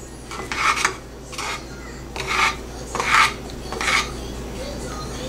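A spoon scraping and stirring peas rice against the sides of a cooker in five rhythmic rasping strokes, close and fairly loud over a low steady hum.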